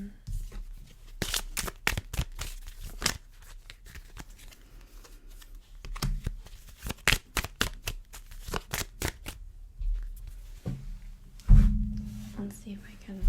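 Oracle cards for a pick-a-card reading are shuffled up close in quick repeated riffling bursts, with soft pauses between, quiet and intimate, ending with a low hum.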